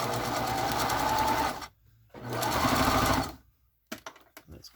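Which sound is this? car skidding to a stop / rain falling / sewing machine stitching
sewing machine stitching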